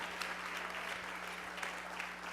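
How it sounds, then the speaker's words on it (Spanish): A church congregation applauds during a bilingual Spanish-English sermon, steady scattered clapping at moderate distance over a constant electrical hum, with no voices. "Can somebody give God an applause with liberty?"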